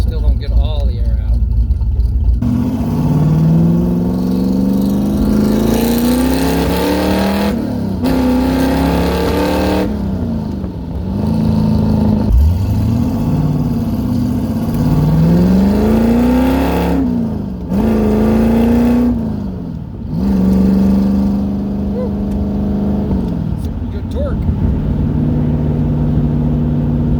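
Engine of a 1969 car fitted with a new Holley Ultra Street Avenger carburetor, revving repeatedly from a rumbling idle into rising, falling throttle blips, loud and close, with someone talking over parts of it.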